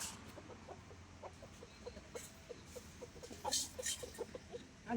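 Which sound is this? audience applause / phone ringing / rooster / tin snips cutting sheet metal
rooster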